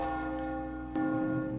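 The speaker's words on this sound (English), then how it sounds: "For whom the bell tolls" A church bell in the video game Dishonored tolls with a long, ringing sustained tone, then a fresh strike lands, renewing the deep resonant hum.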